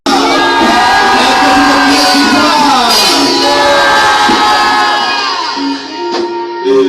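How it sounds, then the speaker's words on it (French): A church congregation loudly shouts and cheers in victory during a French-language sermon, a sustained, dense crowd roar with whoops and higher voices that holds for several seconds before easing slightly near the end. "est-ce que tu peux crier victoire?"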